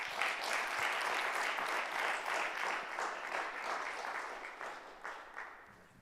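An audience applauds to welcome lecturer Mark David Hall at Jessup University, a steady full wash of clapping from many hands that thins slightly toward the end, with no talking over it.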